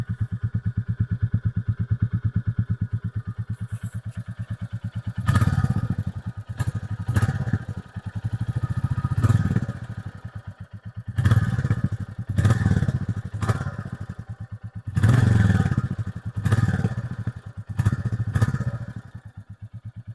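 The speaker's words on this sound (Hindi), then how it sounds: "अब मैं आपको एक बार इसकी साउंड और चेक करवा देता हूँ कि इसकी जो आइडल पे साउंड आती है वो कैसी आती है" A new Royal Enfield Bullet 350 motorcycle idles with a steady, low, rhythmic thump, broken by intermittent louder bursts and mechanical clatter, heard close up and alone.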